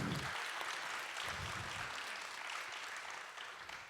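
Audience applause at a regional economic conference in Granville, France, a steady wash of many hands clapping that carries on throughout and fades slightly toward the end, with no talk over it.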